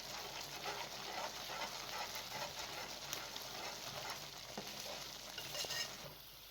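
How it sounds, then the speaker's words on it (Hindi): A spoon keeps stirring thickening milk halwa as it cooks in a pan, giving a continuous quiet scraping and sizzling texture up close. "चम्मच आपने मुसलसल इसके अंदर चलाना है।"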